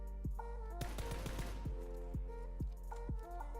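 Repeated gunshots in a video game sniper firefight, several sharp cracks spaced about half a second apart over a steady hum, with a denser burst of fire in the middle.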